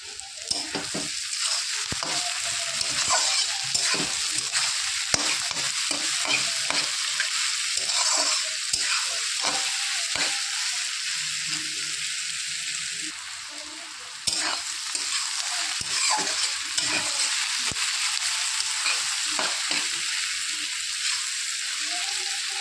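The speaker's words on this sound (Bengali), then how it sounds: "পেঁয়াজটা এরকম হালকা আছে বারবার নেড়ে নেড়ে ভালো করে ভেজে নিতে হবে।" Sliced onions with a little sugar frying in oil, stirred again and again with a spatula, giving a constant near sizzle broken by frequent scraping strokes against the pan.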